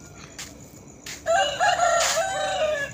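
A rooster crows loudly and close by, one long drawn-out cock-a-doodle-doo with a rising, wavering call, after a quiet start.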